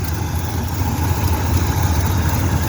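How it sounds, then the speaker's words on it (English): A cammed Chevy 350 V8 idles steadily and loud up close, a deep lopey rumble with small exhaust-leak spits from a header gasket ticking through it, no voices. "a couple little spits up here at the engine. A couple little exhaust leaks for some reason."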